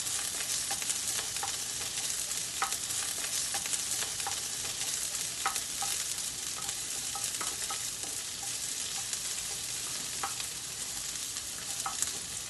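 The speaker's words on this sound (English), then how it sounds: "Now I'll be just sauteing the onions" Onions sauté in a pan for a Japanese tofu wrap, a steady broadband sizzle running throughout, with intermittent clicks and scrapes from stirring scattered across it, close and fairly loud, with no voices.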